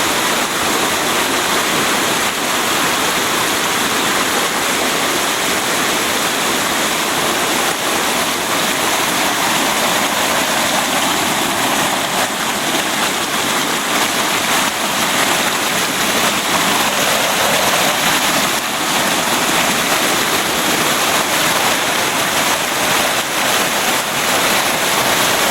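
A rain-swollen creek rushes through a collapsed dam during Hurricane Helene, a loud, constant roar of churning floodwater heard close and alone for the whole stretch.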